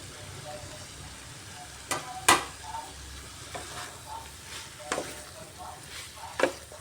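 Shredded cabbage and potato with slit green chillies fry and are stirred in a pan over a low gas flame, a soft steady sizzle broken by a few sharp spatula scrapes and clicks.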